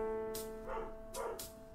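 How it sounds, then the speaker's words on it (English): Dogs barking in the distance, a few faint separate barks over a steady background hum. "The dogs, can you hear?"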